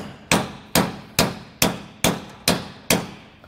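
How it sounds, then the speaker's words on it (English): Seven sharp, evenly spaced metal hammer strikes drive the center bolts of a 5-leaf double-eye trailer leaf spring into the hanger on an enclosed trailer, each clang ringing briefly before the next. "we're gonna hammer these in just like before with our center, just so those teeth bite into our hanger"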